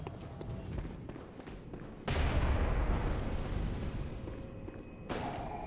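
Cannon fire from a giant enemy in the video game Bloodborne, with a sudden loud booming blast that rumbles on for several seconds, then a second hit near the end, following lighter in-game movement sounds.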